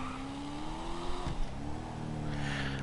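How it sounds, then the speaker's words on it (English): Engine of a Coquette sports car in GTA Online, a steady mid-pitched drone that rises as the car accelerates, dips briefly around a gear change, then carries on at a lower, even tone. "This thing, I love the engine sound."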